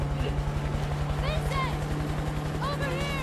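A helicopter in the game A Way Out drones with a steady low rotor throb beneath shouting voices and chaotic action noise.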